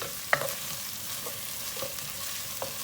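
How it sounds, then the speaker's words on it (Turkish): Quiet, steady sizzling of tomato paste frying in a pot, with a few soft scrapes of stirring. "Domates salçasını da iyice bir kavuracağız."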